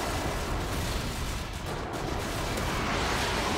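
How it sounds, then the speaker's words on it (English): Friendly airstrike explosions in a military video game roll on as a continuous, dense wall of heavy booms and rumbling blasts, loud and close throughout with no clear gaps or voices. "Friendly airstrike on the way."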